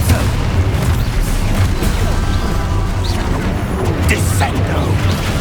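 Expulso blast spells firing in Hogwarts Legacy combat, heavy booming crashes rolling continuously and loud, with a low rumbling bed under shouted spell incantations.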